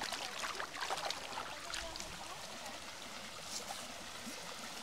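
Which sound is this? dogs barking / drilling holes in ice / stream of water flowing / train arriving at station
stream of water flowing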